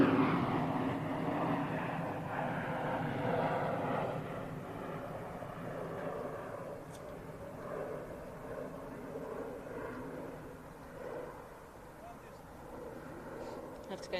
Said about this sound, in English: a very low flying plane going over there.